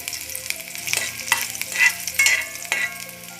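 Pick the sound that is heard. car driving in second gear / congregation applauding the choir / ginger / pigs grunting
ginger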